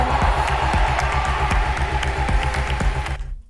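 Rhythmic flamenco palmas handclaps, sharp and evenly spaced, pulse throughout over a full, loud musical backing during a live vocal performance.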